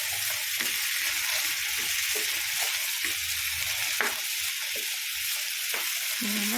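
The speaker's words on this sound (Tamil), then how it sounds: "இது கருவேப்பிலை பொரிஞ்சு வந்தாலும் நம்ம இதில் பொட்டேட்டோ சேர்த்துடலாம்" Potatoes fry with curry leaves in a pan, producing a loud continuous sizzle and hiss throughout, with occasional brief stirring knocks.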